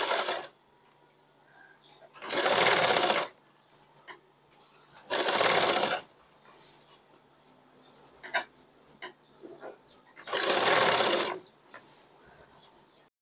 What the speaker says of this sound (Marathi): आपल्याला इथं किनारीला व्यवस्थित अशी शिलाई मारून घ्यायची आहे आणि इथे व्यवस्थित असं लॉक करून घ्यायचं आहे